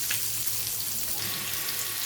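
Meat fries in a pan on a home stove, giving a steady close hiss and crackle of sizzling oil with no voices.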